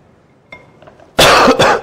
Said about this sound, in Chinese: 我最近这个有点这个感冒，所以有点咳嗽啊